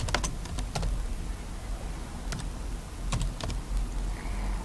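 Keyboard typing while writing Python list code, with short clusters of crisp keystrokes separated by pauses, close and moderately quiet over a steady background hiss.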